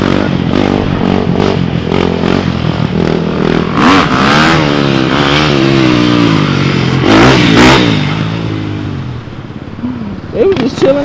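A motorcycle engine revs nearby, its pitch sweeping up and down in several loud surges before fading, while people talk over it.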